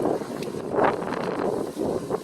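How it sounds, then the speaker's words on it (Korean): A strong headwind buffets the microphone on a coastal cliff trail with a continuous loud roar that rises and falls in gusts, with no voices over it. "맞바람이 불어서"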